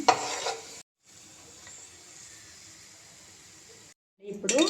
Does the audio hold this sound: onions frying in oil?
yes